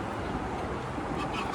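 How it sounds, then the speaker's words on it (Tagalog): Ducks or geese honk by a pond in Lo Barnechea, Santiago de Chile, with close, repeated calls over a steady outdoor background and no talking. "dahil mga pato dyan"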